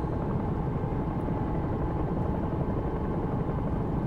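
Bell 222 helicopter in the X-Plane 11 flight simulator, flying a London air ambulance approach: a steady, dense rotor and turbine roar, loud and unbroken throughout, with no talking.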